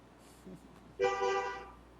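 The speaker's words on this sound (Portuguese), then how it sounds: "Até buzinaram." A car horn honks once in a sustained, fairly loud blast lasting under a second, preceded by faint short background noises and trailing off into quiet.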